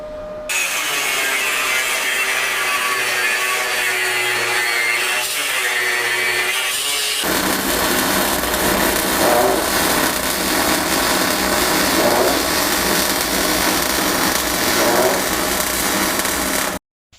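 Power tool cutting 3mm steel sheet into small plates for welding onto a car subframe, a loud continuous grinding whine that shifts to a harsher, denser roar partway through and runs steadily to the end.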